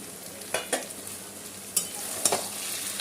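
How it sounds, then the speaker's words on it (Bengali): Onion, green chilli and tomatoes sizzle softly in a pan for a chicken dish, with a few sharp scraping stirs of a spatula against the pan breaking through the low, steady frying hiss. "পেঁয়াজ আর লঙ্কাটা আমি দিয়ে দিলাম। এবার এটা ভালো করে ভেজে নেব।"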